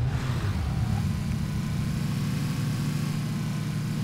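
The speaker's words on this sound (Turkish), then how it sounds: "Arabanın sesi senden fazla çıkıyor ha." A car engine in PlayerUnknown's Battlegrounds drones as a loud, steady low rumble with a hissing noise layer on top, unbroken for several seconds and with no talk.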